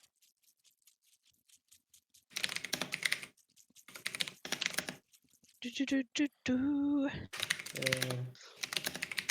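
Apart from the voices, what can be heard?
typing on a computer keyboard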